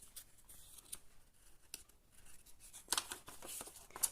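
Scissors snip through white paper during a children's paper-craft session, cutting out shapes for a small airplane collage; quiet, close snips with a couple of sharper crisp cuts near the end and no talking.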